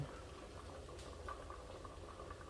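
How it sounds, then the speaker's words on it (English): Cranberry beans boil in a pot, a faint, continuous bubbling and gentle popping simmer that stays even throughout with no voices. "You hear these beans boiling?"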